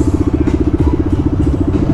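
A superbike engine idles close by at an event in Chhattisgarh, loud and throbbing with a fast, even pulsing beat and a rough clattering low end, no talk.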